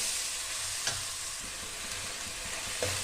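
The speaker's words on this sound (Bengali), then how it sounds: "পেঁয়াজ বাটাটা খানিকক্ষণ নাড়তে থাকবো।" Onion paste frying in a pan with bay leaf, nigella seeds and green chili, a steady loud sizzle with a few sharp scraping stir strokes, close up and without talk.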